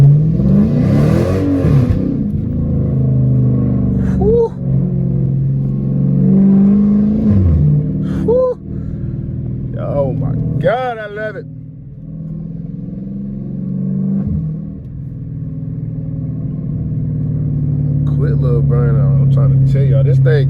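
A catless Dodge Challenger R/T with loud exhaust revs and accelerates through traffic, its engine droning and rising in pitch through several gear pulls, loud and close from inside the cabin, with someone talking at times.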